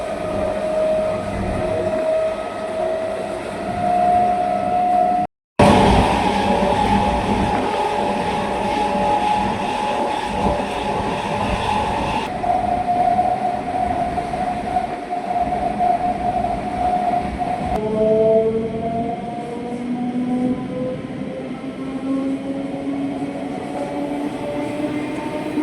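Inside an empty local train in motion, the carriage gives off a loud, continuous rumbling roar with rattling and a steady mechanical hum, broken by a brief dropout and shifting in tone as the train runs on.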